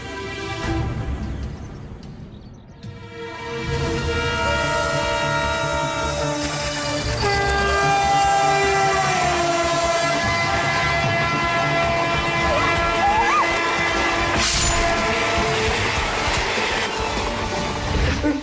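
A train runs along a railway track with a loud, sustained rumble and a long horn-like tone over it, building after a brief dip near the start and then staying steady.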